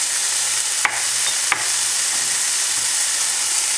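Ground spices, turmeric and curry powder, gently sizzle and roast in a frying pan with a steady soft hiss, broken by two brief scraping stirs, close and without talking.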